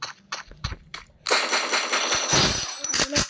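Gunshots in the video game Free Fire: a few sharp separated pops at first, then a louder continuous burst of rapid fire with crackling impacts, fairly close, ending in a couple of distinct shots.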